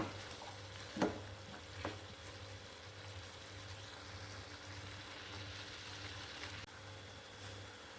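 Onion thokku frying in hot oil in a pan, a steady soft sizzle running throughout with a couple of brief clinks or stirs near the start.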